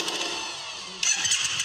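A motorcycle once owned by Steve McQueen starts up, the engine catching and settling into a steady mid-pitched running note, with a louder rise near the end.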